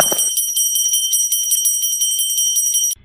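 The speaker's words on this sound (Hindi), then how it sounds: "घंटी की आवाज सुनकर" A steady, high electric bell rings continuously for about three seconds, then cuts off abruptly.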